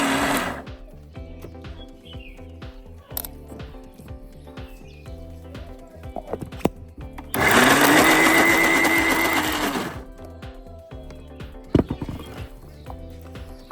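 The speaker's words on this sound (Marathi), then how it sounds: "अशा पद्धतीने गहू वाटून घ्यायचे. जास्त बारीक वाटायचं नाही" A kitchen mixer grinder coarsely grinding wheat with a little water runs in one loud, harsh whirring burst of about two and a half seconds, set between quieter stretches of scattered kitchen clatter.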